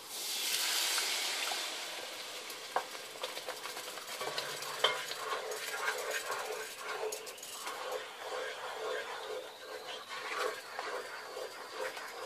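Tomato puree sizzles in a hot pan while being stirred for butter chicken, a steady frying hiss that opens with a brighter burst, with scraping stirring strokes repeating close by throughout.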